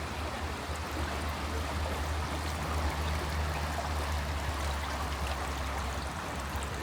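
Ship Creek in Anchorage, Alaska, flowing steadily as a continuous rushing wash of water, evenly loud throughout with no voices.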